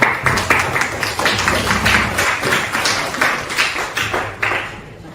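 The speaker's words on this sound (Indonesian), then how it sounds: "Beri tepuk tangan yang meriah." Close, loud group clapping from people in a school coaching session, a burst of uneven hand claps lasting several seconds and then thinning out, with no speech over it.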